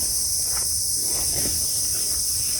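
Crickets chirp outdoors on a hiking trail up Mount Kelud, a steady high-pitched continuous trill filling the background with faint soft rustles beneath and no voices.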